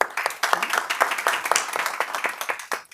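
Clapping breaks out for the speakers at the end of a panel discussion on economics and technology. Distinct hand claps are heard from a modest group, near and fairly loud, and they stay irregular and busy throughout.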